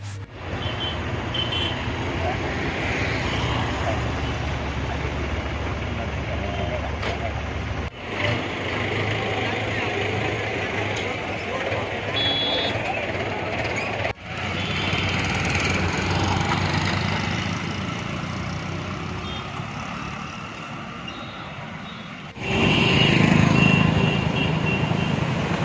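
Tractors and trucks jammed in long queues at the Shajapur agricultural produce market, crowded by a bumper arrival of potatoes and onions, make a steady, close engine rumble. The dense traffic noise runs unbroken, swelling near the end, with no clear voices.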